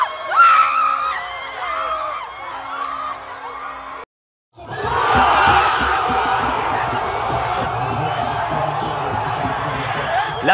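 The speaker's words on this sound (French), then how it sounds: "Les Ivoiriens sont libérés et peuvent crier de joie." Loud crowd cheering, whooping and yelling in the streets of Abidjan after a football victory, with a dense continuous roar that drops out briefly before surging back even fuller.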